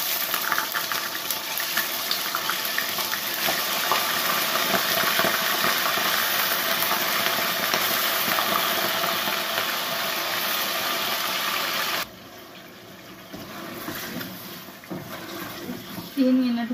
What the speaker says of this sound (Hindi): चिकन को फ्राई करेंगे।